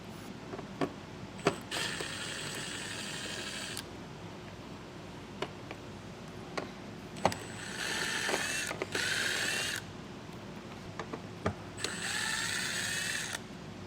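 Screws with 7mm heads come out of a 2024 Buick Enclave as a power driver whirs in three separate bursts of several seconds each, broken by quiet gaps with faint clicks and handling noise.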